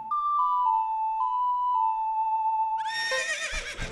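Epona, the horse in Zelda: Ocarina of Time, gives a loud, clear whinny near the end, rising after a steady sustained game tone that fills most of the clip.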